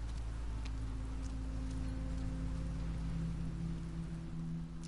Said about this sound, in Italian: Bello che in questa scena piove